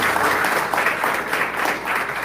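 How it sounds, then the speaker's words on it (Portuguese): A church congregation claps steadily in a continuous wash of applause, the many hands blending into a dense, moderately loud patter with no voices standing out. "se essas palmas for para mim, agradeço"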